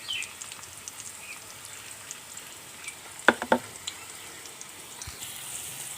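Salt and turmeric sizzle in a pan with a steady low frying hiss, and a couple of sharp scraping stirs land close together near the middle.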